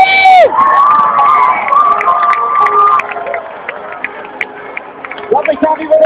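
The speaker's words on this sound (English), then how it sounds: "let's give them all a big cheer as the Olympic torch makes its way on" A crowd cheers and shouts as the Olympic torch arrives at a cauldron lighting ceremony. The noise is loud at first, with whistles and tonal sounds, then thins to scattered yelps and calls.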